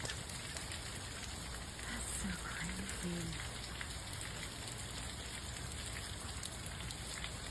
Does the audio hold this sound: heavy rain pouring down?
yes